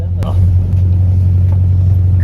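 A classic Morris car engine idles with a steady low rumbling drone, loud and close, and a few knocks and clicks sound over it.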